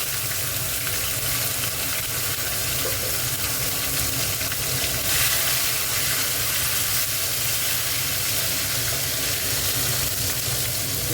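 Tomato sizzles steadily in hot oil in a wok after a temper of black cumin seeds, a continuous close, loud crackling hiss with no talk.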